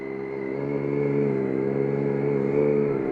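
Triumph Daytona 675 motorcycle engine holds a steady mid-pitched hum with a slight rise in revs while making a U-turn, close and continuous with no other sounds.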